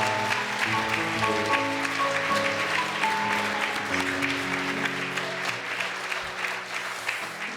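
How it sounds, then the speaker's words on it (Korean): Church congregation applauding at a New Year's Eve worship service, a dense, steady clapping that fills the room for several seconds, with sustained organ or keyboard tones held underneath. "우리 감사의 마음을 담아서 박수하겠습니다"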